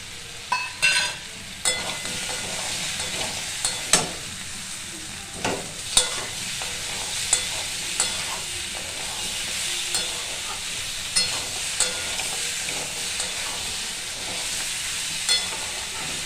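A vegetable curry of raw pumpkin with fried lentil dumplings stir-fries in oil, a constant close sizzle broken by regular scraping stirs of the spatula every second or two.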